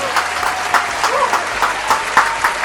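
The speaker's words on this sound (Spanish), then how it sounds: "Un aplauso, hijos de la..." A live podcast audience in Mexico City applauds, with sharp, loud claps standing out over a general wash of clapping and a few faint voices.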